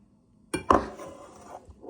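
Spoon clinking against a bowl while stirring sugar into a Nutella mixture, a few close clinks and scraping starting after a short silence.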